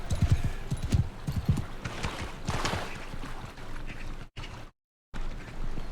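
A horse in the video game Bannerlord gallops in rhythmic, thudding hoofbeats, close and clear, with a whinny and some clanking gear, and the sound cuts out briefly near the end.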